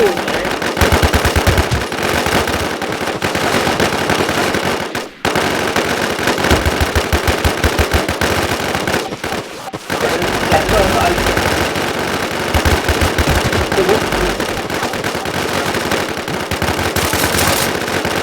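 Loud, sustained video game gunfire rattles in rapid automatic bursts, nearly continuous with a couple of brief gaps, while players talk over it.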